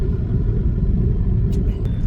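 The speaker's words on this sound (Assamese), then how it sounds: "এতিয়া মই গাড়ী চলাই আছোঁ ঘৰ গৈ আছোঁ" Steady, loud low-frequency rumble inside a moving car on the road home, continuous and even with faint higher road noise and no voices.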